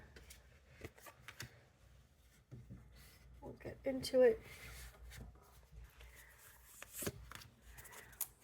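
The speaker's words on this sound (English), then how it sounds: "let me take these cards here. I'm gonna shuffle" Papery riffling of tarot cards being shuffled in a short burst midway, with a person talking before and after.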